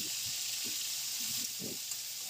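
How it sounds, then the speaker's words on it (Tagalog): Pork chop frying in cooking oil in a wok, a steady close sizzle with soft scraping and stirring bursts, no voices. "At prinito ko na yung pork chop."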